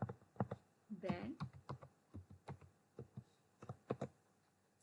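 Typing on a computer keyboard, a run of quick irregular key clicks close to the microphone with a brief voiced sound partway through.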